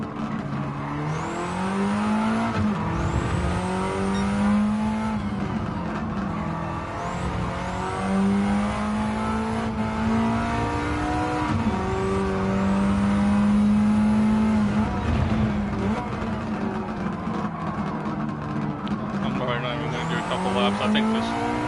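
A race car in Gran Turismo 7 runs a lap with a loud, continuous engine note that climbs and drops through repeated gear shifts and revs, holding steady volume throughout.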